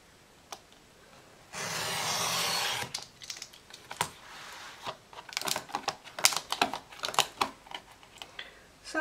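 Craft knife slicing through a piece of a Crown Royal box, a sustained scratchy cut near the start followed by a run of sharp irregular scrapes and clicks as the blade is drawn through the cardboard, close and fairly quiet.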